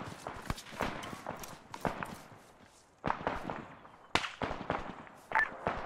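Mortar rounds firing in the video game Arma 3 during a milsim fire mission, heard as a string of sharp cracking reports and thuds with a few heavier hits, over quiet background.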